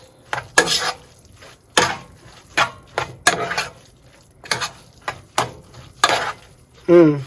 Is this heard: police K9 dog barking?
no